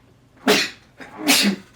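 Two quick sneezes in a house, close and sharp, about three-quarters of a second apart, with quiet in between.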